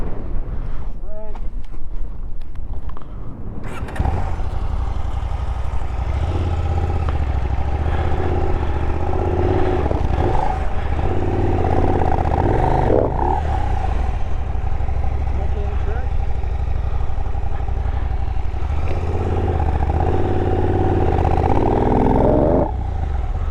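A motorcycle struggles on a loose-rock alpine trail in the Colorado backcountry, its engine running steadily and loud at close range with clattering of stones underneath, while voices talk over it.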